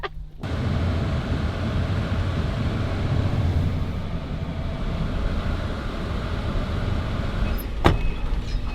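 A borrowed car drives along with a steady engine and road drone from inside the cabin, starting after a door-like thump and ending with a brief click.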